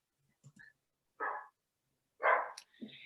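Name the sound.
dog barking in the background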